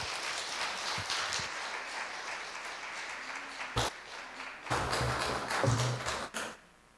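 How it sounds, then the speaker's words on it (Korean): Applause from a church congregation welcoming a pastor rolls on for several seconds, with a few thumps and bumps near the end before it fades out. "우리 박수로 목사님 환영하고 말씀 듣겠습니다"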